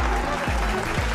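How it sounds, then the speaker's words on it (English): Brief burst of crowd applause at a food-themed fun day event, steady clapping with a low rumbling undertone throughout. "Please welcome her with a huge round of applause"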